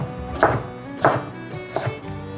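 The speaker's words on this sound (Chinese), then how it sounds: "把小黄瓜切粗条状" A knife cuts a small cucumber into thick strips on a cutting board, giving three crisp chops less than a second apart, close up, with no voices.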